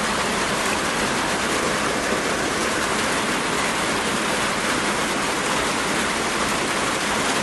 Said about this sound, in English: I hope you guys are enjoying the rain.